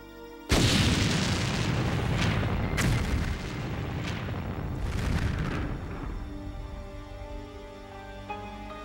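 A high explosive detonation: a sudden loud boom bursts in, then a long rumbling, rolling roar with several sharp secondary cracks that slowly fades into a lingering echo.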